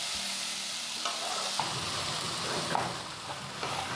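Cumin and chili frying in a pan for a spiny gourd and potato fry, with steady sizzling throughout and occasional stirring scrapes and clinks close by.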